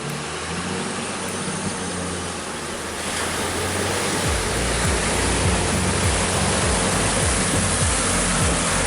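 A loud, continuous rush of water surges as a 4WD vehicle pushes through a water crossing, the roar swelling midway and carrying a low engine rumble underneath.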